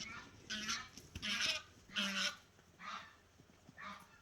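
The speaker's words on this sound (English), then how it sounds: "These cobra chickens are being chased by the dogs. And now they're losing their minds." Geese honk in repeated loud bursts while being chased by dogs, the calls arriving in a steady series of harsh, overlapping squawks at close range with no talk.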